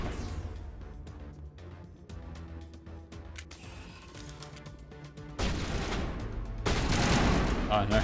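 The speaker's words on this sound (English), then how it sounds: "Stop swapping to the assault rifle" Assault rifle fire in Mass Effect 1 Legendary Edition: rapid bursts of gunshots over game sound, growing denser and louder toward the end.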